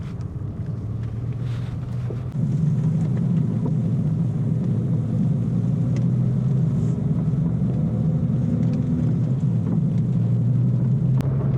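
Porsche Boxster 987S being driven with a fault noise, a steady low engine and road drone inside the cabin that swells slightly after a couple of seconds and holds evenly, with no talking.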